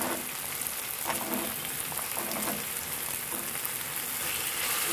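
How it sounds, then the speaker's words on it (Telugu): Beans and masala frying in a pan, a steady crackling sizzle with faint stirring scrapes, close and unbroken with no voices. "ఇప్పుడు బీన్స్ ని చిక్కుడుకాయలు వేసేసుకున్నాము మనం"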